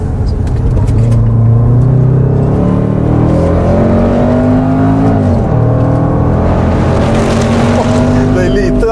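Range Rover Sport SVR P575 V8 rumbling loudly in a deep, continuous growl with pitch rising and shifting as it pulls away, heard from inside amid constant road and engine noise.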